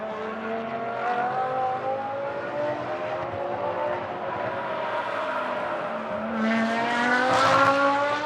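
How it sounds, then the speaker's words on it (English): A Reiter Engineering Lamborghini race car heads toward the final corner during free practice, its engine note rising and falling through the gears with a steady roar that swells louder near the end. "As the Reiter Engineering Lamborghini comes down towards the final corner again."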